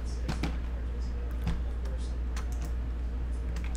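Clicks of typing on a computer keyboard, a few scattered sharp keystrokes and short bursts over a steady low hum, faint and close, with speech-like sound in the background.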